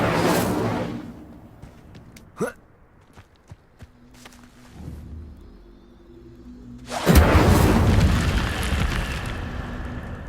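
Incendio fire spell cast in the video game Hogwarts Legacy, a loud fiery whoosh and rumble at the start and again near the end, with footsteps and small effects in between.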